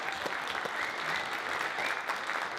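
Steady applause from an audience at a women's football team presentation during a kick-off event, dense even clapping filling the whole stretch with no talk over it.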